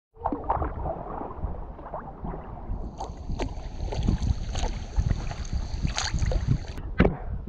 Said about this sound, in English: We were just paddling along there